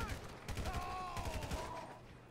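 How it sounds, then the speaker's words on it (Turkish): Rapid bursts of gunfire crackle at moderate distance in GTA 5, with a wavering tone and faint talk underneath. "Evet şuradan silah sesi geldi."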